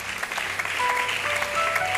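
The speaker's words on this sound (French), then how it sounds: "On peut acclamer le Seigneur." A church congregation applauds for the Lord, a steady wash of many hands clapping close by and filling the whole stretch without a break.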